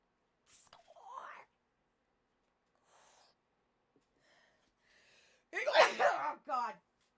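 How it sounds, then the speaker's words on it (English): A person sneezes loudly and close by, in one forceful burst followed by a shorter second gust, after a few seconds of faint breathy vocal sounds and near silence. "I sneezed right while I was trying to warn everyone I was gonna sneeze"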